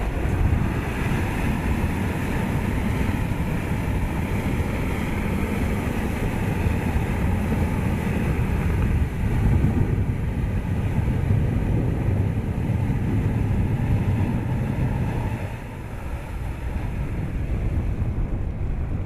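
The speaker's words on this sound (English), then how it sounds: "This is what happens if you drop the water from a 747 supertanker while still on the ground." A heavy, continuous roar of water released from a Boeing 747 supertanker onto the ground pours down without a break, loud and close, briefly swelling before settling.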